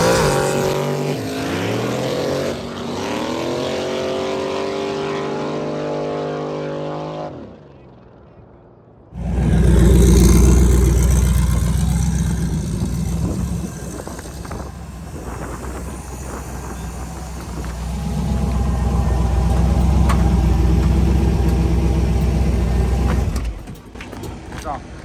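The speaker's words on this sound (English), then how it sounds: "that is a lot of motor and a lot of nitrous on a really crappy road" A small-tire drag racing truck with a big nitrous-fed engine tears down a rough helipad strip, a loud roaring run that builds and holds for about fifteen seconds after a lower rumble, with voices talking over parts of it.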